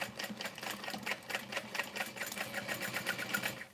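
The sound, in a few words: sewing machine stitching a bowler bag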